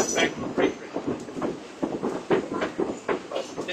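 A heritage diesel passenger train on rails at Mid-Continent Railway in North Freedom, Wisconsin, with a rhythmic clickety-clack of wheels over rail joints, close and steady, about nine beats in under four seconds.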